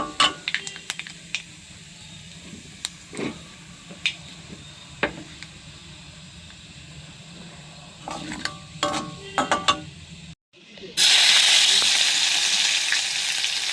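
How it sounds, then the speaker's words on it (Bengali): Black cumin seeds dropped into hot oil for tempering, first scattered crackles and clinks from a pan, then a sudden loud, steady sizzle close by. "কালো জিরেটা এখানে ফোড়ন দিয়ে দিলাম"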